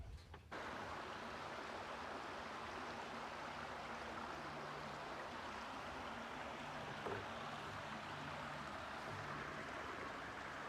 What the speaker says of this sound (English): this is a creek on our property, pretty much the main creek